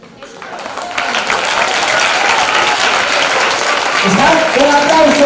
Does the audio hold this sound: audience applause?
yes